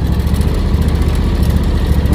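An overheating lawn tractor engine runs rough after mowing uphill, giving a loud, close, continuous drone with a slightly uneven pulse and no talking.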